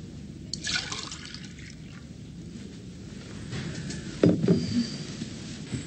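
Water is poured into a drinking glass indoors: a quiet trickle and splash with a few drips, then a short, brighter burst of liquid near the end, with no talking.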